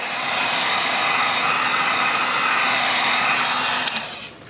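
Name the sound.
heat gun blowing on shoe kick guard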